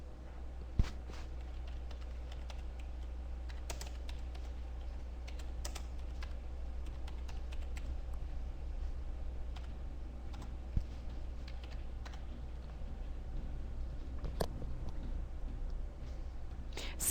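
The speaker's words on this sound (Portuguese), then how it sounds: "Eu posso digitar aqui?" Close typing on a computer keyboard during an online health lecture, a steady run of light key clicks over a constant low hum, with no talking.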